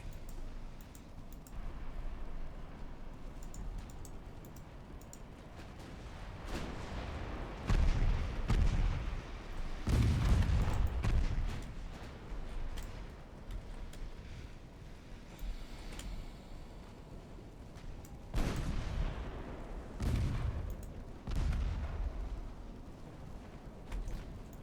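Warship gunfire in the naval video game Ultimate Admiral Dreadnoughts: a continuous low rumble of battle with repeated deep booming salvos swelling and fading throughout, fairly quiet, no talk.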